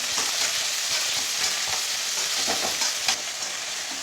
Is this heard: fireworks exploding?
no